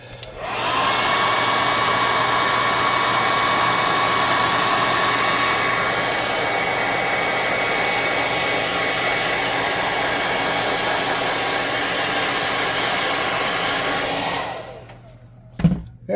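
A hair dryer blows steadily and loudly on a handmade flatraft model for a tabletop game, a constant whooshing drone lasting about fourteen seconds before switching off with a faint clatter.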